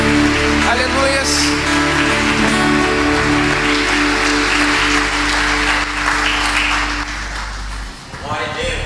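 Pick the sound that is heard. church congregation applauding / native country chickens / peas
church congregation applauding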